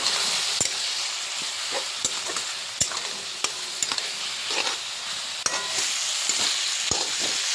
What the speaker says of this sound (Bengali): এবার এগুলো এখন ভালোভাবে কষবে, কষিয়ে নিতে হবে ভালো করে।